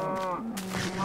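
A cow in the Minecraft Tekkit game gives a single short, close moo with a rising tonal call.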